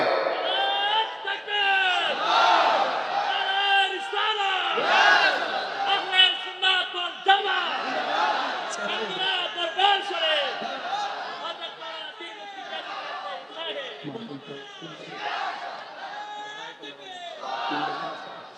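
A crowd at a religious gathering chants slogans in loud, rhythmic unison bursts, with a leader's voice calling out between the responses.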